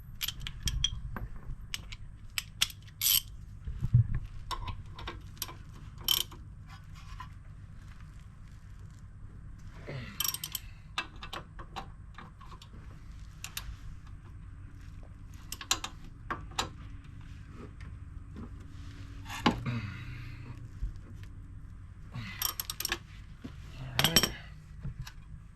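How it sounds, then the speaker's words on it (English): Ratchet tightening a hub bearing on a 2006 Volvo XC70, with scattered faint metallic clicks and tool clinks at close range in a quiet garage, no talking. "we're going to have to use a ratchet to finish tightening that up"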